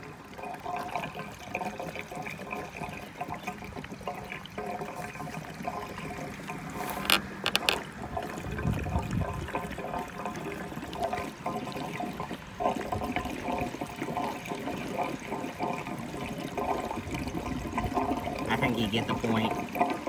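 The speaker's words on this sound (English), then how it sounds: "I'll get to pouring the gas in." Gasoline is poured into the tank of a 1982 Trans Am, a steady, gurgling liquid flow with some clunks and clatter, while someone talks at times.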